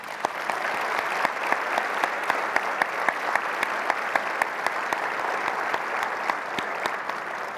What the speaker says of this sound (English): please join me in thanking all of our 2016 advocacy sponsors with a warm round of applause